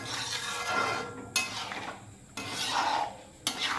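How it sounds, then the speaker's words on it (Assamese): A spoon scrapes and stirs through mangkho khichdi with local chicken in a pot, giving rough rasping strokes in several separate bursts with brief pauses between them, close and fairly quiet. "মিক্স কৰি দিয়া"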